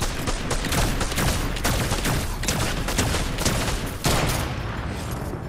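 Rapid Fortnite gunfire fills the stretch: dense, continuous volleys of loud shots with overlapping bursts, steady and close, with no talk.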